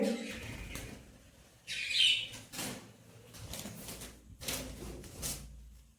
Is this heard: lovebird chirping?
yes